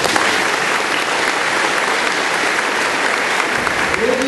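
Sustained applause fills a commencement ceremony hall for a volleyball team, a dense, even clapping from a large crowd with faint voices underneath.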